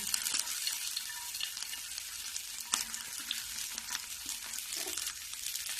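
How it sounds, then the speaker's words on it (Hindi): Green chillies frying in hot oil in a home kitchen, a steady close hiss and crackle of sizzling with a few brief stirring clicks and pops, no talking. "देखो तेल गरम हो गई है, तो सबसे पहले मैं हरी मिर्ची डालूंगी"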